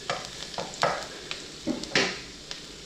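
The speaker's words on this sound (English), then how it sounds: "Let the garlic brown there a little bit." Garlic browns in a pan for chicken rasta pasta, with a soft steady sizzle and several brief scraping bursts as it is stirred close by.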